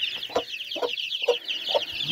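Broody hens clucking in a farmyard, a run of low, close clucks repeating at a steady pace, with a constant chorus of high chirping chicks underneath.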